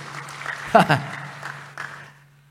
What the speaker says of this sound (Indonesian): Yang bilang amin tepuk tangan dulu buat Tuhan Yesus.